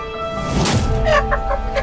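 A hen clucks in short, loud bursts close by, her calls rising and breaking in quick succession with no talking over them.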